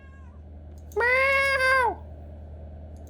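One clear, fairly loud meow from a cat in the video game Kentucky Route Zero, rising and then falling over about a second above a quiet low background hum, with no talk.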